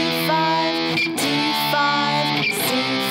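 Distorted electric guitar chugs through a descending sequence of power chords from the Carol of the Bells outro, loud and sustained, each chord changing in a steady rhythm.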